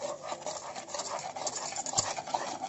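Agar-agar powder, sugar and cocoa powder stirred together dry in a cooking pot for pumpkin chocolate pudding, giving a steady soft scraping and rubbing that runs continuously, close and fairly quiet, with no talking.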